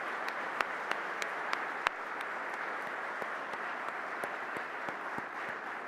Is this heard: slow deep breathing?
no